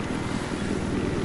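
A video game helicopter, a chopper a player is trying to fly, gives off a steady, dense rotor and engine drone that holds level and fairly loud for the whole moment, with no talk over it.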